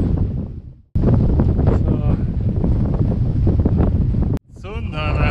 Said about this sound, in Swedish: Det blåser en del så det är lite tungt.